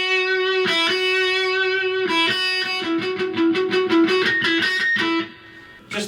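An electric guitar with a lightly overdriven tone plays the No Straight Roads theme, two sustained notes followed by a fast run of rapidly picked repeats that builds toward the end, close and clear with no talking.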